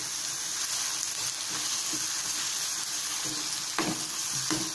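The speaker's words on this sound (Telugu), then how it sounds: "సో అందుకని మనం 1/2 minute సేపు ఈ పచ్చడిని ఫ్రై చేసుకుందాం" Coconut chutney fries in a pan with a steady moderate sizzle, broken by a few soft scrapes and taps of stirring, with no one talking.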